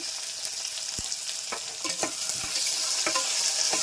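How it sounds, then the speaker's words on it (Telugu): Onions, garlic and lentils with curry leaves frying in a pan, a steady close sizzle broken by scraping stirs and a few sharp clinks of a spoon against the metal, with no voices. "ఎర్రగడ్డలు తెల్లగడ్డలు పప్పులు బాగా వేగిపోతున్నాయి కదండి"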